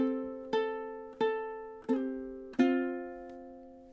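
Ukulele plucking measures 7 and 8 of a Japanese-inspired tune from Avatar: The Last Airbender, four clear, evenly spaced notes and chords that ring out and decay, played alone at a soft, close level.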